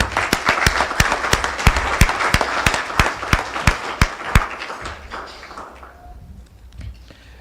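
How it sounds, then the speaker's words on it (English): Audience at a medical school alumni awards ceremony claps loudly for an absent honoree, a dense burst of sharp hand claps that thins out and fades over the last few seconds, with no talking. "So we'll applaud him in absentia."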